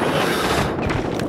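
A weapon is reloaded in Call of Duty: Modern Warfare, giving a quick, loud burst of mechanical clicks and metallic ratcheting, close and alone.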